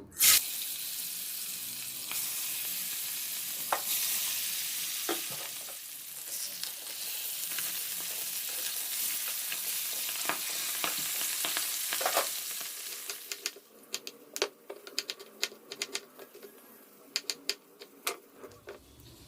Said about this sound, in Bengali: তেল একদম গরম হয়ে গেছে, মাছগুলো এবার একটা একটা করে ছেড়ে দেব।